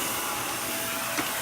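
A Shark vacuum cleaner fitted with a Dust Daddy attachment runs steadily, a broad close whooshing hiss with no pauses and only a tiny blip near the end.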